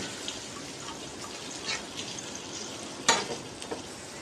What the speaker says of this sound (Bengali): কড়াইটা বসিয়ে দিলাম মশলাটা কষাই নেব